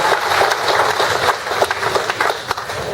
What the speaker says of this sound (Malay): Satu tepukan besar bagi mereka semua.